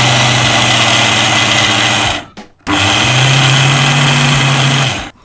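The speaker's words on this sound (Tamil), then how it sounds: "இப்போ நம்ம இதை அரைக்க போகிறோம்." A mixer grinder coarsely grinds grain into rava in a television cooking-show kitchen. Its loud, steady motor whine runs in two bursts with a brief stop between them.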